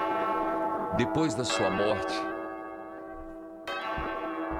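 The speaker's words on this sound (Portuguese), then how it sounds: "toca o sino, sacristão." A church bell tolls with a rich, ringing hum during a novena service, sounding alongside a voice talking, then fading before a fresh strike near the end.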